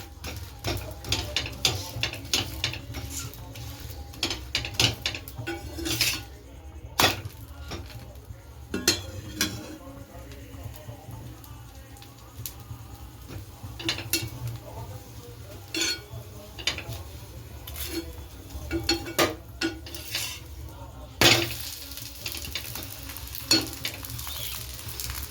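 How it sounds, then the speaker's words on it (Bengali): Flatbread cooks in oil in a wok, a low steady sizzle broken by frequent sharp clinks and scrapes of utensils against the pan, with occasional quiet voices nearby. "ওই কড়াই তেল দিয়েই করে দিচ্ছি।"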